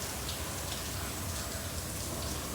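Istobal automatic car wash spraying Rain-X, foam and rinse, a steady hissing patter of water jets drumming on a car body, close and continuous without talk.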